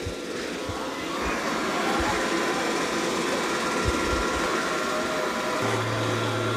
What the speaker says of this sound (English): it's mopping and vacuuming up all that dirt and debris.